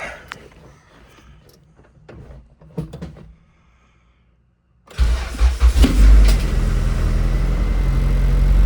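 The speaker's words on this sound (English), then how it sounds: "So we should be able to just start the dang thing." A 1992 Honda Civic hatchback engine, just fitted with a new distributor, cranks and catches into a loud, rough idle after a stretch of quiet shop sounds, with a socket still left on the crankshaft.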